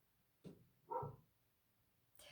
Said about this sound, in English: And I apologize for my dog.